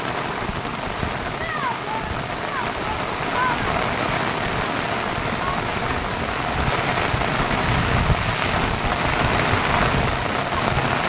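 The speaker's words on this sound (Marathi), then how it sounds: "हा पाऊस लागलाय." Rain falls hard and steadily across a village, a thick, continuous wash of drops with a low rumble beneath and a few faint bird chirps early on.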